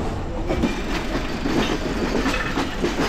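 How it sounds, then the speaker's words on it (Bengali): Padma Express train pulling slowly out of Kamalapur railway station at night behind locomotive 3002, a steady rumble with rhythmic clickety-clack of wheels on rail joints, close and continuous. "ট্রেন আস্তে আস্তে কমলাপুর রেল স্টেশন থেকে বের হয়ে যাচ্ছে।"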